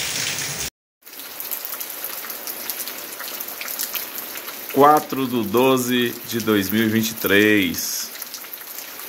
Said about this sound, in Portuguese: Chove nesse exato momento aqui na cidade de Triunfo, Pernambuco